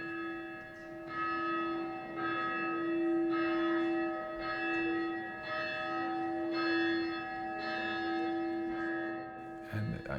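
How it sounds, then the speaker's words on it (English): Recorded church bell chiming through PA speakers in a hushed room at Trinity Hall: evenly spaced strikes, each blooming into a long sustained ring, steady and prominent with no voices. "And then it was the chiming of the bell."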